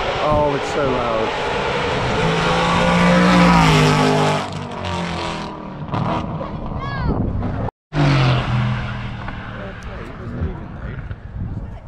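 A straight-piped supercar at a supercar show at Shelsley Walsh revs hard, its loud exhaust rising and falling through repeated blips with a brief cut-out midway, while people talk nearby.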